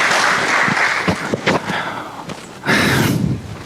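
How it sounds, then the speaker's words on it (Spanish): Audience applause at a talk on precision prevention swells loudly at the start, dips briefly, then rises again in a full burst of clapping from a room of listeners. "fuerte los aplausos"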